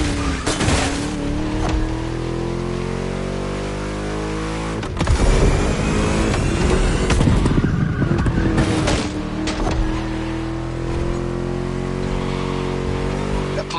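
A V8 race car engine in Crew Motorfest revs loudly and changes gear repeatedly, with rising and falling engine tones, brief bursts of tire noise and a growling mid-lap surge.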